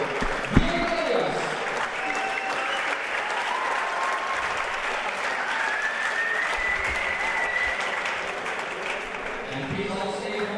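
Sustained audience applause for the 2015 World Junior Squash Championships champion at the finals, a dense steady wash of clapping lasting throughout, with a few voices and a faint tone mixed in.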